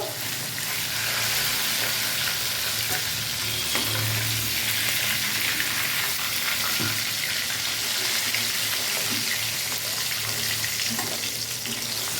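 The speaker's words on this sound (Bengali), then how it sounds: "হালকা হালকা করে ভেজে নিয়েছি, নিয়ে এবার মাছটাকে আমি তুলে নেবো" Hilsa fish pieces fry lightly in oil, giving a close, steady sizzle and crackle that continues evenly throughout with occasional soft pops.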